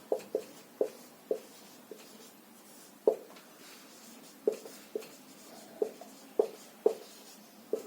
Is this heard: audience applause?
no